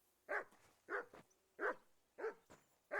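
A dog in the Kingdom Come: Deliverance 2 video game barks five times at an even, steady pace. The barks are short, moderately distant and fairly quiet, with no other sound.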